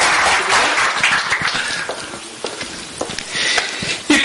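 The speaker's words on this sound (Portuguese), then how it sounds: "Uma salva de palmas para ela" Applause rises from an audience at a Brazilian event honouring a CBF and FIFA referee, a dense, loud patter of many hands clapping at once, with no talk over it.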